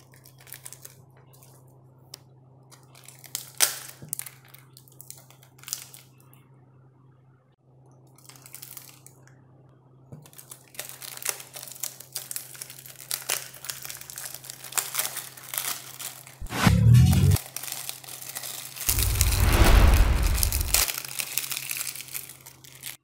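Heat-sealed plastic packaging is torn open and crumpled nearby, with scattered light crinkles building to two loud bursts of rustling and crushing.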